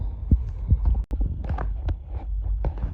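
An older engine idles with a steady, low, rhythmic throbbing, heard up close and continuous except for a brief dropout near the one-second mark, with no one talking over it.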